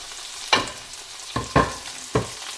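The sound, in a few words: onions, tomatoes and spice powders frying in a pan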